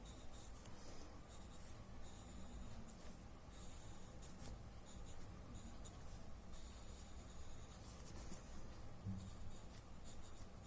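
Graphite pencil shading on paper, a soft continuous scratchy rubbing that runs steadily throughout at close range, with no voices.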